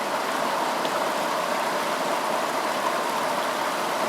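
Steady, loud rush of white water rapids on the Farmington River at Satan's Kingdom, a continuous broadband roar with no pauses or voices, filling the whole stretch.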